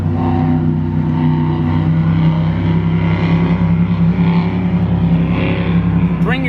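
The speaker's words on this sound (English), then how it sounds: "Boats are jamming by." Engine drone of motorboats passing close to an outdoor DJ gig, a loud steady roar with rising and falling hum, while someone talks briefly over it.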